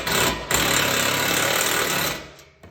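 A power tool rattles hard and fast while tightening the last bolt on a vehicle-mounted rack, a loud continuous burst lasting about two seconds before it cuts off.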